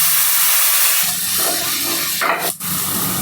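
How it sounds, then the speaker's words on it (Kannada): Onions frying in butter with cumin and spices in a pan, giving a steady loud hiss of sizzling throughout, swelling briefly near the end with a short sharp dip. "ಆನಿಯನ್ ಚೆನ್ನಾಗಿ ಫ್ರೈ ಆಗಲಿ."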